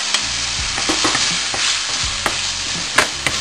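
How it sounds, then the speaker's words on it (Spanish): Chopped onion sizzles steadily in hot oil in a frying pan, with stirring scrapes and light clatter over the continuous close frying hiss. "Y lo que haremos en este aceite, vamos a echar la cebolla que ya la tenemos picadita."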